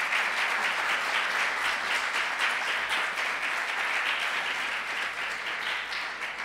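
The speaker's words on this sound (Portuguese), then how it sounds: "também um forte aplauso" Sustained audience applause at a political speech event, dense steady clapping from a crowd filling the whole stretch without any speech over it.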